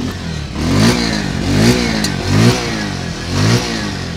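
Bajaj Pulsar 150 motorcycle engine, 2024 standard model, revving up and down repeatedly in about four rising bursts, close and loud over a steady idle with no talk.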